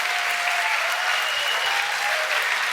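Steady, thick clapping fills the room from a crowd responding to a startup pitch, even and continuous without any break.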